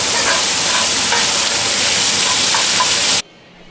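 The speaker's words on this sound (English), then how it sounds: "I like to fry the onions" Chopped onions sizzling loudly in a hot pan for a few seconds with a steady frying hiss and crackle, then cutting off abruptly to near silence, no voices.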